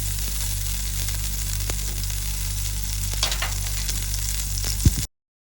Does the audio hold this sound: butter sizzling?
yes